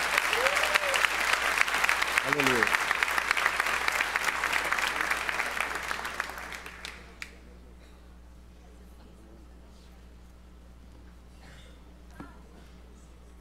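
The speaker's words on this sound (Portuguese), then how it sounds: "Pode aplaudir bem forte que é para o Senhor." A church congregation claps loudly and steadily for about seven seconds, a dense wash of applause with a voice calling out over it, before the clapping dies away into quiet room tone and scattered faint sounds.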